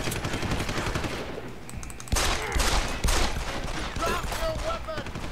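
Rapid pistol fire in the Deus Ex video game, with dense, loud crackling shots running through the whole stretch, several bursts clustering close together.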